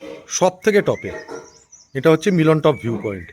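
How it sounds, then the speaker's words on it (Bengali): Birds call faintly from the hills around a hilltop viewpoint near a monastery in Pedong, North Bengal, with thin high chirps heard mostly under a person's steady talking. "অনেক পাখিরা ডাকছে এখানে"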